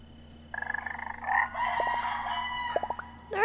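Chickens in the video game Time on Frog Island: a rapid run of clucks rising into a drawn-out crow, with further clucking and short pecking blips, clear and close against a steady background hum.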